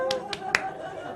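Three sharp hand claps ring out close by at an uneven pace, the last one loudest, over a faint tonal background.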